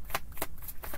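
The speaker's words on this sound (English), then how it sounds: "You're watching me shuffle, guys." Tarot cards being shuffled by hand, with three quick riffling bursts in close succession, crisp and near, no voices.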